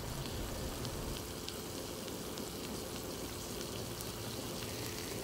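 Flank steak in oil on a Blackstone griddle at medium-high heat gives a steady, dense sizzle, an even hiss that continues without a break, fairly quiet and with no talk over it.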